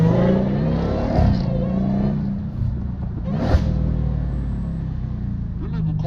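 A Dodge Challenger Hellcat engine gives a deep, steady rumble from inside the car, with a brief surge midway and a throaty low growl that persists throughout.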